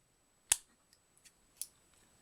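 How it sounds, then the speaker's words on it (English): Novelty pair of scissors snipping: one sharp close click followed by a few lighter, scattered snips and taps in a quiet room. "This is a pair of scissors."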